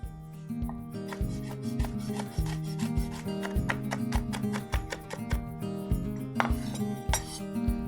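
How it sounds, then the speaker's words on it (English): Peppers, taken from a jar with their brine, are chopped quickly with a knife on a board. Crisp, rapid blade taps run steadily throughout over a sustained tonal backdrop. "We're gonna chop these up real quick."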